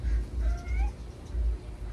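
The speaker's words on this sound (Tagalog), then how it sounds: "Ang pusa." A cat meowing nearby, a couple of short rising mews in quick succession over a low background rumble.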